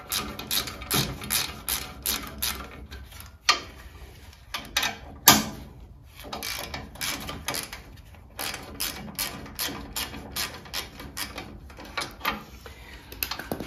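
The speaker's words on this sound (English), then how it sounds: "So I'll just hit these with the socket" A socket wrench loosening the guard bolts on a Haban sickle bar mower, giving close, uneven clicking ratchet bursts with small metallic knocks and brief pauses between turns, heard alone without talk.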